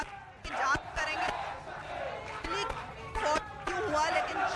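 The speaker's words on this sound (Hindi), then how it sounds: "लगातार यहां नारेबाजी भी हो रही है" Students at a Jadavpur University protest, holding flags, raise loud crowd chants and shouting with bursts of clapping, a dense steady roar of many voices close by.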